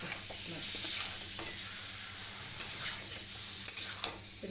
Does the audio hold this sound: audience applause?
no